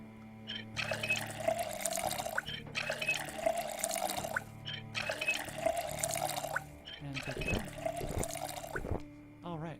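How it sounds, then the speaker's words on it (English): Water pours in repeated bursts as a bottle is filled inside the survival game Project Zomboid, with four steady splashing runs separated by brief pauses and a quiet game hum underneath. "And fill up the water bottle."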